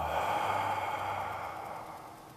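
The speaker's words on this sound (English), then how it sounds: "let's all take one nice deep inhalation and exhaling, letting go." A deep, slow exhalation during a guided breathing meditation, a single long breathy sigh close to the microphone that gradually fades away.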